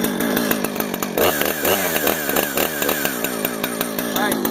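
A Husqvarna chainsaw starts up after priming and runs loud and close, its two-stroke engine droning with rising and falling revs for several seconds.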